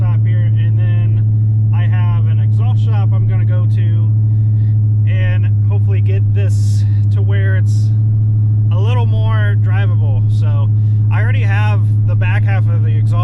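A hot rod Chevrolet S10 pickup truck with a small Super 10 muffler idles with a steady, loud, low engine and exhaust rumble throughout while a person talks over it.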